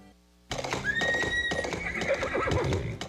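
A horse neighs as a loud, drawn-out whinny sound effect in a radio advertisement, following a brief lower tone and standing alone without speech.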